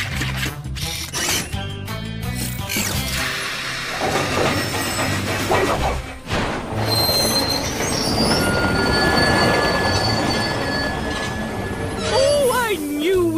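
A cartoon train, the Dizzy Dust Express, rumbles backwards along the rails with squealing wheels and rattling carriages, voices talking over the steady mechanical noise.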